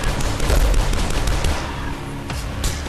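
Rapid pistol fire in the retro first-person shooter DUSK: a dense, loud burst of repeated shots running together, then a few separate reports toward the end.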